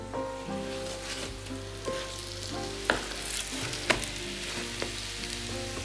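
Chive and seafood pockets sizzle steadily as they pan-fry, a dense continuous crackle with occasional louder pops and light clinks of a utensil, close and alone without speech.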